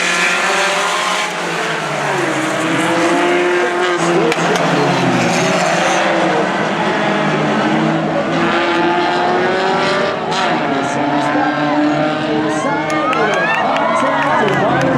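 Race cars at a Hornet-class short-track event roar loudly down the front straight, engine notes rising and sweeping past continuously while a crowd cheers in the background throughout.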